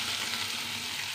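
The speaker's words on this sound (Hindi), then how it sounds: "अब हम इसमें आधा चम्मच जीरा डालेंगे और एक बारीक कटी हुई प्याज डालेंगे" Cumin seeds and finely chopped onion crackle in hot oil, a brief, even sizzling hiss heard up close at low volume without other sounds.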